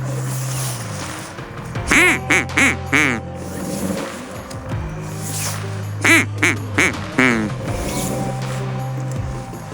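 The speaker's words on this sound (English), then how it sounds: "So the whole time we're hearing and seeing geese" Two bursts of loud honking goose calls, four or five quick honks each, over a low engine hum and background noise, on the Yukon River during a duck hunt.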